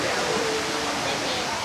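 Water pouring out from the bamboo raft area at Villa Escudero, fed from Mount Banahaw, a steady close rush of falling water, broadband and even, filling the short moment with voices faintly beneath.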